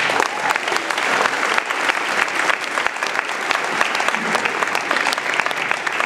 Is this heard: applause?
yes